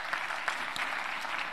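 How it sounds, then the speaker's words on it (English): Audience applause for departing helpers at a university class session, a steady dense wash of clapping held at an even level throughout, with no voices over it. "give them another round of applause as they leave"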